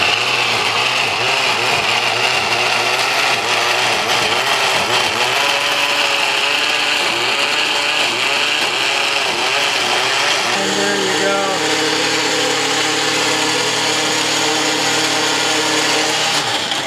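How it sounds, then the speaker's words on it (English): A blender whirs loudly and steadily up close, its motor grinding continuously through Mexican salsa before the tone shifts and evens out near the end. "So we put the blender in, we got the cover on"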